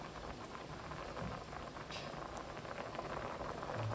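Thick beef brain roast curry bubbles and hisses steadily in a pan, a dense continuous simmer heard close up with no voices.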